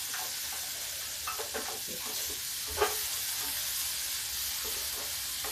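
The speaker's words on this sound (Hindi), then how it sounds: "अब इसको हम भून लेते हैं।" Sabudana bhujia for a fasting-day meal is roasted in a pan. A soft, steady sizzle runs under scattered stirring clicks and scrapes, with one sharper knock in the middle, all fairly quiet.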